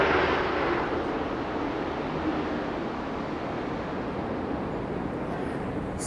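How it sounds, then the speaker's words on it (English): A jet aircraft passes overhead outdoors during a houseplant care routine, a steady broad loud roar that is strongest at the start and eases slightly while sustaining throughout, with no talking. "sorry for that jet engine again."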